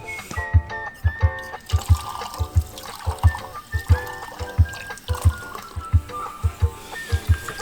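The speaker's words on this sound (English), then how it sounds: "The outside tap." Water runs from an outside tap in a steady splashing flow, with a regular pulsing rhythm of spattering bursts throughout, fairly close and unaccompanied by talk.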